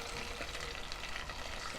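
Vegetable cooking water poured into fried garlic for a quick idli sambar sizzles in a steady, faint hiss that lasts the whole moment without pause.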